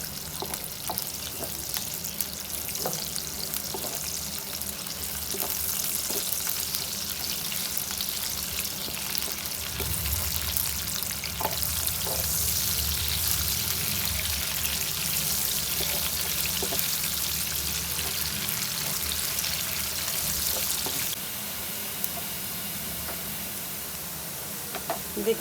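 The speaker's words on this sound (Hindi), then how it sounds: "प्याज को हल्का फ्राई करते हैं।" Onions frying lightly with cumin seeds in a pan, a continuous close sizzle with scattered pops and occasional utensil scrapes, the hiss thinning toward the end; no one speaks.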